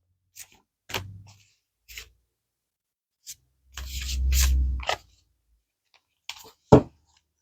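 Tarot cards being shuffled: a few short, soft flicks and slides, then a longer riffling burst, followed by scattered taps in quiet surroundings.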